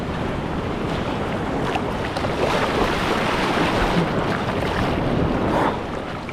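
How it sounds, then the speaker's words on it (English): Big ocean waves and a strong tide off Tenerife roar loudly and continuously, a dense broadband wash of surf mixed with heavy wind buffeting the microphone close by. "This is a strong tide. Big waves."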